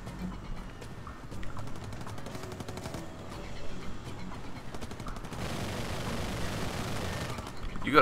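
Rapid sustained minigun fire in R.I.P.D. The Game video game, a dense rattling stream of shots that swells louder in the second half, with game effects layered underneath.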